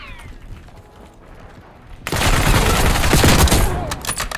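Gunfire in a first-person sniping video game: a faint, quiet stretch, then a sudden loud burst of rapid overlapping shots and blasts that continues to the end.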